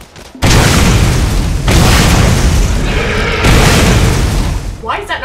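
Big gun fire and explosions in the video game Borderlands: a sustained, loud roaring boom that swells and rolls on for several seconds with repeated blasts, close and dense, with players' voices underneath.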